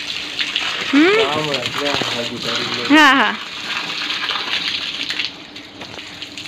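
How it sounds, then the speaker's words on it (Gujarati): Water gushing steadily from a hose pipe in a garden at a Gujarati dairy farm, a continuous spray under playful voices that laugh and speak. "હાલો તો મિત્રો ખુરશી રાખી દેવાય નળી નીચે."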